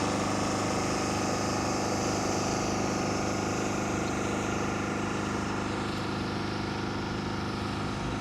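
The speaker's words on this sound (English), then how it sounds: "They're power hosing the streets here." A pressure washer hosing down streets runs nonstop, a constant motorized hum and hiss of spraying water that holds steady throughout.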